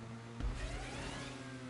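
A car engine in a video game revs and drones steadily, a loud continuous mid-pitched motor tone with a brief surge partway through and no talking.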